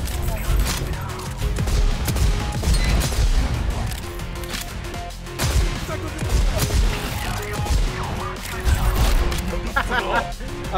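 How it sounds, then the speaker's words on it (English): An enemy's own grenade explodes among loud gunfire and impacts in the cyberpunk first-person shooter Deadlink. The bursts are dense and repeated, and a voice talks over the mix. "I made him throw his own grenade at himself."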